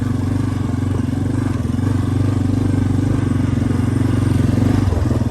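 A 1993 Yamaha Big Bear ATV engine in third gear on a bumpy trail gives a steady, loud, pulsing drone with an even rhythmic chug, heard alone throughout.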